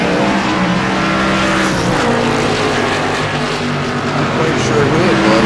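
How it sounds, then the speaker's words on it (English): An Xfinity-class race car roars loudly around Auto Club Speedway, engine droning close and steady while its tires squeal through a spin-out, with commentary talk running over the top. "Somebody spun out"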